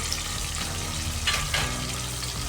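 Onions frying in a pan with salt added while cooking veg pulao, a steady close sizzle with light stirring scrapes and no talk.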